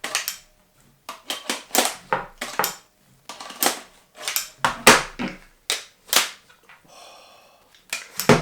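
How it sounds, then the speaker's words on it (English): Plastic paintball magazines, T15 V1 and V2, dropping free after the mag release is pressed, giving a rapid series of sharp hollow clacks and rattles as they fall and hit each other, close and loud with no talk. "you hit the mag release and they will drop out"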